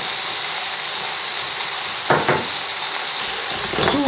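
Lamb pieces dusted with flour being stirred in a cocotte, a steady hissing sizzle throughout with a few brief spoon scrapes near the end, close and fairly loud.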